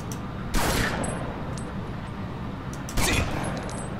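Gunfire rings out in a gangster shootout in the game Omerta: City of Gangsters. Two sharp shots crack about two and a half seconds apart over a steady, rumbling background, with no voices.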